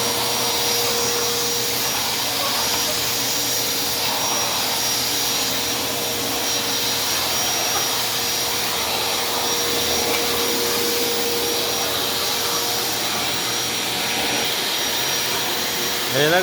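A Black & Decker vacuum cleaner runs steadily in a gym, its loud constant whine and airy roar droning close by without a break.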